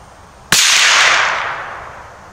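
A single rifle shot fired with Stinger ammunition at clay targets 100 yards away: one sharp, loud crack that rings out and slowly fades, with no other sounds around it.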